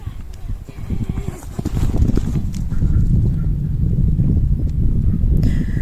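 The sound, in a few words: horse galloping around a riding arena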